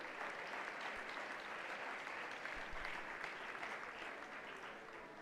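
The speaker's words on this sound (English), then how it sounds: "Let's give them a round of applause again" Lecture audience at a St. George's College lecture series applauding steadily and fairly loudly, a dense wash of many hands clapping at even strength throughout with no pauses.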